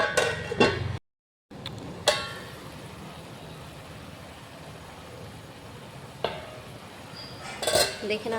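A metal lid set onto a boiling pot of cabbage and prawns, with several sharp clanks of pot and utensils near the start and end over a low simmering hiss, close and without talk.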